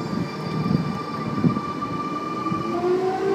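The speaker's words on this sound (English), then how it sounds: "CM service arriving into platform number" A Sydney Trains service pulls into the platform at Bankstown station with a steady broad rumble of rolling wheels, plus drawn-out tonal whines and squeals that rise near the end as it slows.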